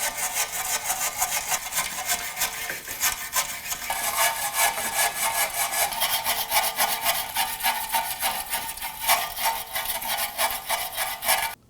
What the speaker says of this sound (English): Using a wire brush, go ahead and clean them out.